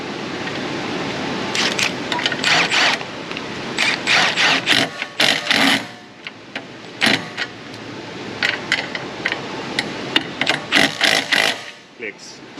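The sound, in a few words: torque wrench clicking while tightening bushing bolts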